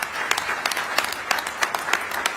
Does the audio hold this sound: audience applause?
yes